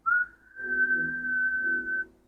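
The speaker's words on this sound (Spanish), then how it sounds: "¿qué están silbando por ahí?" A single sustained whistled note, steady and clear, with a brief first note before it, accompanied by a faint low murmur.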